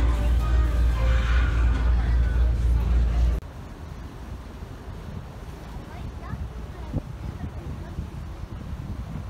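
Strong wind on a river cruise boat on the Moskva River in Moscow, near Luzhniki Stadium, a heavy low rumbling buffet that drops abruptly to a steadier, quieter rushing wind, with faint voices talking underneath.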